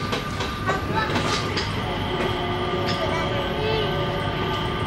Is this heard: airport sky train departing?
yes